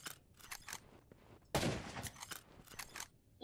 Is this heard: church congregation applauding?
no